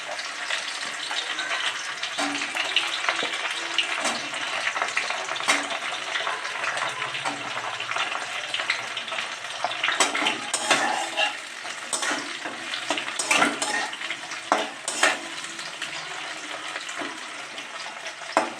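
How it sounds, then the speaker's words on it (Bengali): Pointed gourd (potol) frying in oil in a pan with dried red chillies, a loud, close, continuous sizzle with bursts of crackle and occasional stirring scrapes. "পটলটা আমি ভালো করে ভাজা হতে দেবো, একটু ভালো করেই ভাজতে হবে।"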